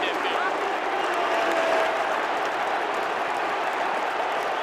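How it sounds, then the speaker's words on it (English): Australian football crowd at a Melbourne versus GWS AFL match in 2013 roaring and jeering at GWS player Tom Scully, a dense, steady wash of crowd noise filling the stadium with a commentator talking over it. "Crowd are letting Tom Scully know."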